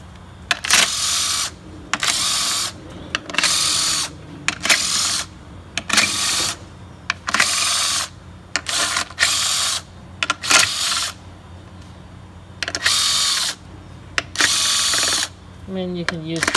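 An air ratchet or impact tool spins off the 10 mm bolts on the valve top cover of an Acura RDX, loud whirring bursts of a second or so repeating with short pauses in a garage.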